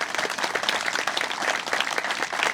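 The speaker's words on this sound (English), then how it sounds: "So huge round of applause today" A gathered crowd at a bridge celebration gives employees a round of applause, with dense, lively clapping that stays close and steady from start to finish.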